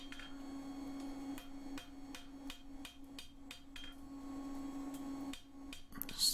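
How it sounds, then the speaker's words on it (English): Rounded end of a hammer striking an old metal hinge pin over the beak of an anvil, a series of sharp ringing blows at a steady, slightly uneven pace over a low constant hum. "with the rounded end of the hammer and over the beak, I'm just thinning that back down away, just behind the swelling that I've created"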